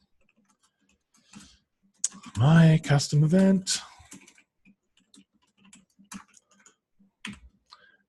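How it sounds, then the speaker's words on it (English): Light, irregular clicking keystrokes on a computer keyboard, quiet and sparse, scattered around a brief stretch of someone talking. "I am so bad at typing today."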